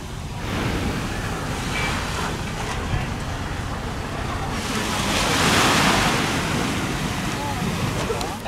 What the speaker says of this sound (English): Can't resist just stopping and looking at the soothing waves for a minute before we head on.